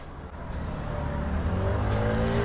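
Engine of a 49cc Austin Strada scooter with two riders climbing a hill, a steady, close, straining drone whose pitch rises gradually.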